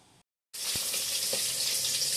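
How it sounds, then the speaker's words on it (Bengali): Fish fries in a pan, a dense, steady hiss of sizzling oil that starts abruptly after a short silence, with a couple of faint knocks in the hiss. "এদিকে মাছ ভাজাটা হচ্ছে"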